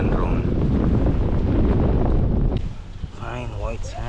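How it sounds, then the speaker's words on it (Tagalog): Strong wind on an island beach in Balabac, Palawan, roars loudly against the microphone and then eases abruptly, after which a voice speaks over a calmer breeze. "Medyo malakas nga lang ang hangin"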